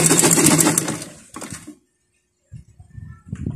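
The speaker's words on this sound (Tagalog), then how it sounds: "Ayan, tahiin natin." A sewing machine stitching a fabric scrunchie, a loud rapid whirring run that stops, then a short burst and quieter handling sounds after a pause, close by with no talk.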